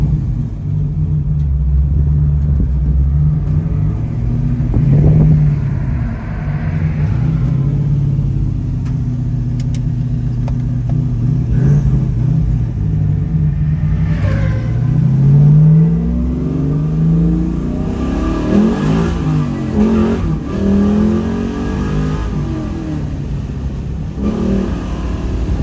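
A restomodded 1969 Chevrolet Camaro with an LS3 V8 and five-speed Tremec manual accelerating hard through the gears, a loud, deep engine roar rising in pitch, dropping at shifts, then climbing again, heard from inside the car.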